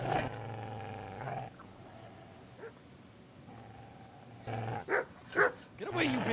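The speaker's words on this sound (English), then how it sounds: "Get away, you mutt!" A dog growls and barks in the medieval video game Kingdom Come: Deliverance, a low snarling rumble followed by a few loud, close barks mixed with game voices.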